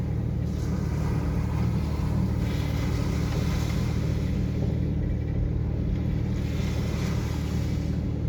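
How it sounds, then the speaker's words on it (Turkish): A Toyota jeep drives along a beach on a safari outing, its engine giving a steady, continuous low rumble with constant road and wind noise and no breaks. "Şu anda bizdeki de bir Toyota jip."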